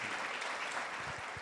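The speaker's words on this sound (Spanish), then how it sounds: "vamos a darles un aplauso de bienvenida" A church congregation gives a short round of welcoming applause, a dense steady wash of clapping filling the room with no voices over it.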